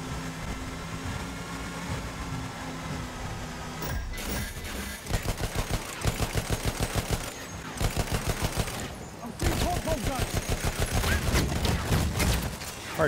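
Gunfire from a British Mark 6 revolver in a Battlefield shooter, with sharp shots firing in quick, regular bursts over constant battlefield noise and a voice talking in the background.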